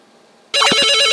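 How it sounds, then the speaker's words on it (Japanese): A telephone starts ringing abruptly after a brief quiet moment, an electronic incoming-call ringtone, loud and close. "あ、鬼から電話"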